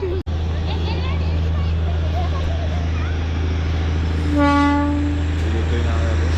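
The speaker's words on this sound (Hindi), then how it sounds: "ये ट्रेन आ रहा है अभी।" A train approaches in Darjeeling amid steady low rumbling and background chatter, and a clear horn toots once partway through, loud and sustained over the hum.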